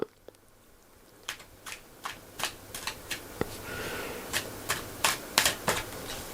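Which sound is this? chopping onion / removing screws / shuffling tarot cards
shuffling tarot cards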